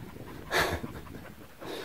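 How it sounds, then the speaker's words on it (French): A shepherd dog pants on a mountain trail, with a burst of quick, breathy huffs close by and then softer breathing, outdoors with no talking. "C'est un chien de berger, ça?"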